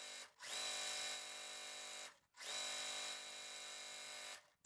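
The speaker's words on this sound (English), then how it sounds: "So I'm going to sew the next piece on." Sewing machine stitching quilt pieces in short, close bursts: two long steady whirring runs with brief pauses between them, then a third run starting.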